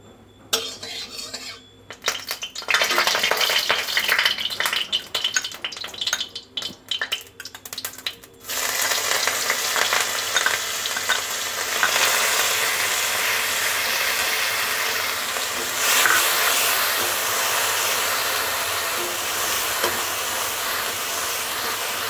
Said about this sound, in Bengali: আমি এখন কড়াইতে তেল দিয়ে চিংড়ি মাছগুলোকে নুন হলুদ দিয়ে ভেজে নিচ্ছি